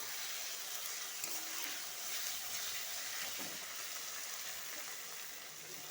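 Ginger paste sizzling in oil in a pan while cooking ghugni, a steady, dense frying hiss that holds at an even level throughout, with no voices.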